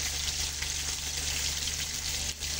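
Dried shrimp sautéing in a pan with a little tomato for chopsuey makes a steady, close, moderately loud frying hiss and crackle throughout, with no talk over it.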